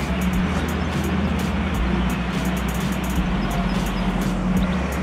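Car pulling up on a street in Strasbourg to collect passengers: a steady, fairly loud engine and road rumble that holds throughout, with no voices over it.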